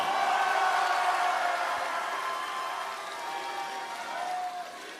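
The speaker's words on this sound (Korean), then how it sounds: "청년들에게 응원의 박수를 보냅시다." Applause and crowd noise at a Democratic Party joint campaign rally in Daegu–Gyeongbuk, a broad, steady wash of clapping from a large audience that fades slightly toward the end.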